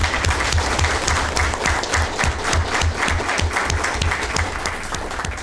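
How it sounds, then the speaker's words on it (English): An audience at a school committee meeting applauds a student being honored, loud, continuous clapping with individual hand claps audible close by and a slight fade toward the end. "Can we give him one more round of applause?"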